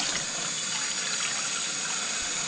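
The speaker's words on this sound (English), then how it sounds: "fill up the pan," Cold tap water gushes steadily into a pan in a home kitchen, a close, continuous splashing hiss with no talk over it.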